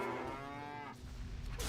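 A spectral bovine cow ghost in World of Warcraft lets out one short, low moo at close range, followed by brief game noise.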